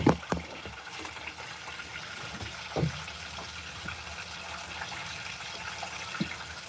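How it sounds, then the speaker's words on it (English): Water poured from a container onto soil in a plant pot, a soft continuous trickle with a few thumps and splashes, close and fairly quiet. "And then we're going to water it"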